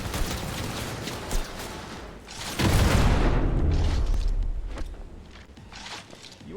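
A grenade blast in a video game, a deep booming explosion swelling up near the middle and rumbling on for a couple of seconds amid footsteps and game noise.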